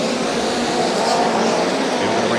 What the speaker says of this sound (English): Race off into turns 1 and 2.